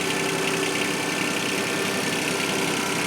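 A backhoe's engine runs in a steady, loud, close drone as the machine is driven along, holding an even pitch throughout with no voices.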